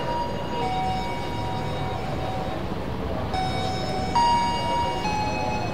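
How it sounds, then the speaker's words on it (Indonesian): Harina economy premium passenger train running from Semarang Tawang toward Bandung, a steady close rumble and rattle of the carriage with faint tonal hums and squeals over the top, no talking. "Kangen banget suara ini karena udah lama banget gak naik kereta api."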